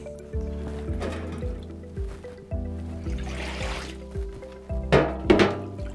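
Seasol certified organic seaweed concentrate is stirred into liquid, producing soft sloshing and splashing that swells into brief bursts near the end, heard under steady background music.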